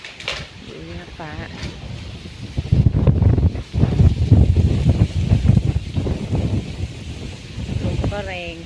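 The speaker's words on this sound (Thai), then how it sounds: "ลมก็แรง" A strong wind blows outdoors in rural Thailand as a rainstorm approaches, buffeting the microphone in loud, gusting rushes. Voices talk over the wind at the start and end.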